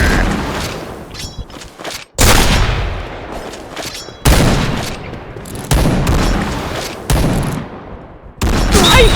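Rapid bursts of video game gunfire from a team shooter match, loud and close, in several sharp volleys separated by short gaps, with booming reports and rattling automatic fire.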